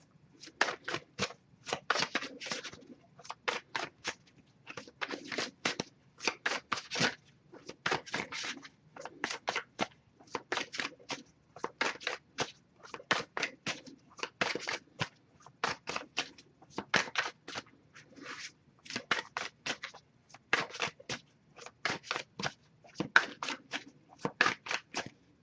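Tarot cards being shuffled by hand in repeated quick riffling bursts, each lasting about half a second, close and crisp, with brief pauses between bursts and no talking.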